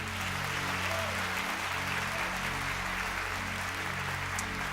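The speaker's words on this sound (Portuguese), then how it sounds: "Você pode aplaudir Jesus?" A church congregation applauds during a service, steady clapping spread across the room under a sustained low musical drone from the band, moderately quiet and continuous throughout.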